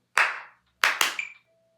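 Three sharp hand claps ring out in a quiet room, one alone and then two close together, keeping time with a metronome whose faint tone lingers after the last clap.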